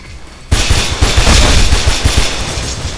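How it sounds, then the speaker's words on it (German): Rapid bursts of gunfire from behind in the first-person game Mirror's Edge, a dense clatter of repeated shots that starts abruptly and keeps up, loud and close, with no talking. "von da hinten kommen Schüsse"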